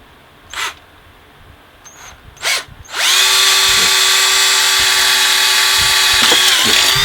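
Power drill boring rivet holes in a homemade fishing rod holder built from cheap dollar-store parts; a few faint taps come first, then a loud, steady, high-pitched whine that runs unbroken for about four seconds before cutting off.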